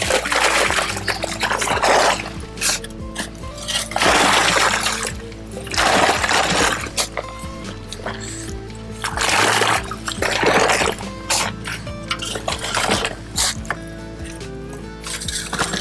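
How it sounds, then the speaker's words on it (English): Water splashing and sloshing in a garden area being filled for concrete work, with bursts of splashing recurring every few seconds over a steady background. "Too much water in here."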